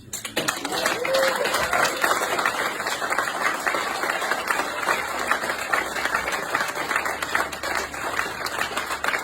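A concert audience in Berlin applauds after a music performance, a dense, steady wash of clapping that starts abruptly and carries on evenly for several seconds.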